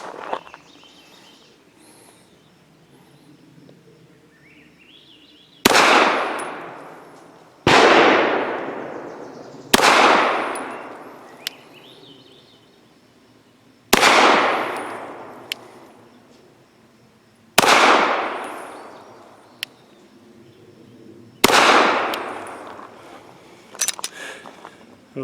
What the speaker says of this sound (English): Now for 5 shots from 7 yards using Nosler 115 grain match.